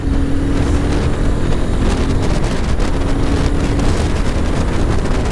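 A Royal Enfield Himalayan 450 motorcycle rides fast on a twisting city road in fourth gear, its steady engine drone buried under loud, constant wind rush at the microphone, with no talk.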